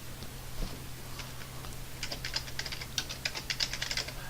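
Quick bursts of keystrokes on a computer keyboard while a username is entered, soft and close, with light clicking that grows denser toward the end, no voices.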